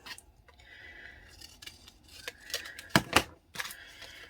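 Scissors trim a piece of card to size in a quiet room: a few soft snips, then a cluster of sharp, close cuts near the end.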